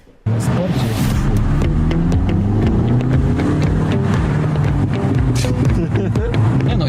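A new car pulls away on its first drive, steady engine and road noise running loud and continuous after a brief quiet start, with rumbling low tones throughout.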